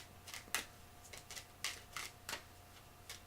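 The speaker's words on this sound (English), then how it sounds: "I'm gonna keep shuffling." Tarot cards being shuffled close up, quiet bursts of riffling and slapping at irregular intervals over a low steady hum, with no talk.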